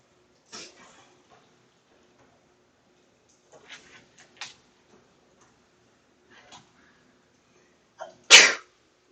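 One sharp, loud sneeze bursts out near the end, close to the microphone, after a quiet stretch with a few faint clicks and small noises.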